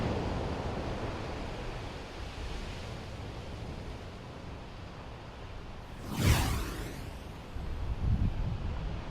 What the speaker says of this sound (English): see the water enter the wonderful Pacific with its roar and its gush